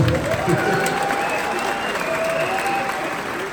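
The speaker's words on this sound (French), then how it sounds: "On peut l'applaudir." An audience claps in dense, continuous applause at an indoor evening event, loud and steady for a few seconds.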